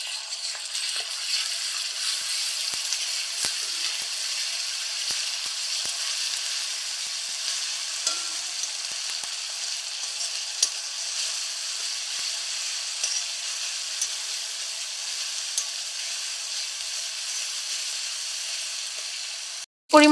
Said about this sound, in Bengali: এবার আমি সমস্তগুলিকে ভালোভাবে ভেজে নেব।